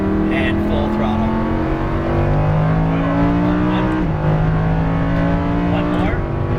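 A Lamborghini Huracan LP610-4 on track roars under full throttle, its engine pitch climbing steadily through rising gears with brief shift dips, loud and close inside the cabin, while an instructor talks over it.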